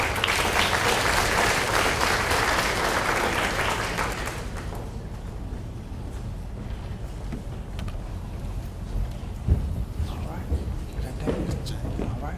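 An audience at a high school senior awards ceremony applauds award-winning students, dense clapping filling the first few seconds before thinning into scattered claps and room murmur.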